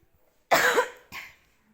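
A woman coughs twice up close, a loud harsh first cough followed after a short pause by a softer second one, in an otherwise quiet room.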